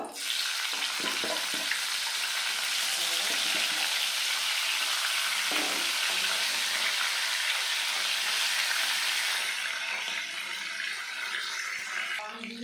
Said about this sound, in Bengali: কড়াতে তেল দিয়ে দিয়েছি এখন আমি মাছগুলো ভেজে নেব